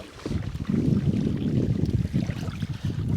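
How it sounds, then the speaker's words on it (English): Wind gusts across choppy water beside a small boat near a sheltered island shore, a steady low rushing roar with buffeting on the microphone and no voices. "And the wind."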